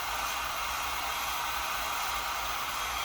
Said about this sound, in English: Heat gun or a blow dryer.